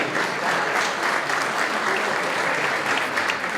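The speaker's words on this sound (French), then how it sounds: "Applaudissez-la très fort, s'il vous plaît" A gala audience gives a 12-year-old donor loud, sustained applause, a dense, even wash of clapping throughout with no one speaking.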